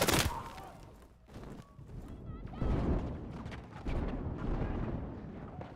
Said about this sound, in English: I'm just hearing fucking constant explosions, and that's it.